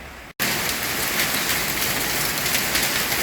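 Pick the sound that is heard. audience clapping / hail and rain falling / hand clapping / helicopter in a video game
hail and rain falling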